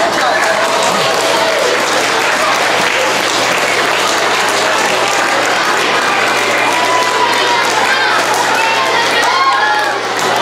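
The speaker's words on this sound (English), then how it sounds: "Let's give them a round of applause." Audience at an elementary school geography bee applauding the students, loud continuous clapping with some cheering and children's voices mixed in, filling the room throughout.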